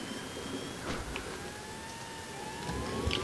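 An ambulance siren in the video game Emergency 4 wails faintly in the distance, its tone sliding up and down steadily beneath low background rumble, with no talking.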